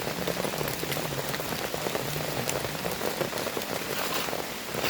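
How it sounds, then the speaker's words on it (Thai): Light rain patters steadily on a surface in a humid forest, a constant fine hiss of drops with no voices. "ฝนตกโปรย ไปไหนไม่ได้เลย"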